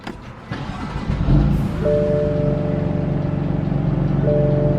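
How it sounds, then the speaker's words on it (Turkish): A BMW M4 engine cranks and fires up on a cold start, then settles into a steady, rumbling idle close by. "Şimdi aracı bir çalıştıralım."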